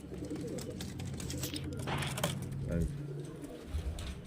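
Kalshira and Giribaz highflyer pigeons coo softly in a group, low throaty calls running steadily beneath someone speaking nearby.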